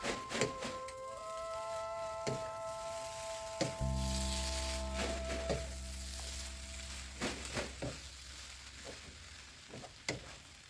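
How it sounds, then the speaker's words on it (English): Meat, mixed vegetables and bihon rice noodles stir-frying together in a pan for Filipino pancit bihon, with a steady sizzle broken by clattering utensil scrapes and stirring knocks. "You can now add your meat and mixed veggies and mix it all together with the noodles."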